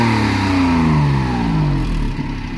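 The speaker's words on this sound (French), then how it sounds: "un petit 3 cylindres, ça fait un super bruit en fait" A small three-cylinder car engine, imported from Japan and with a slight exhaust leak, revs loud and close, its pitch falling steadily through the revs with no talk over it.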